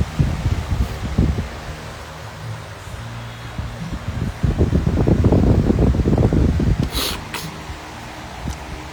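Steady whooshing airflow with gusty rumbling bursts blows close to the microphone, like an electric fan running nearby.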